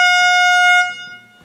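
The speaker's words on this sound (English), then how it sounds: "every time you say something borderline, I'm gonna blow this air horn" A single loud air horn blares for under a second, a bright sustained honk that cuts off sharply and leaves only a faint tail, with no other sounds around it.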